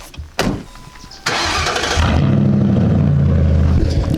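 A Ford Crown Victoria P71 with its muffler deleted starts up after a couple of sharp clunks, then settles into a loud, steady, deep idle close by.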